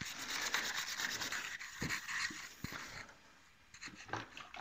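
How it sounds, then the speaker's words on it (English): An Abranet abrasive cloth is worked over the painted bumper of a Vauxhall Nova SR, giving close, steady rhythmic rubbing strokes with brief pauses and a slightly quieter stretch near the end. "I'm just going to use some Abranet cloth to polish that out."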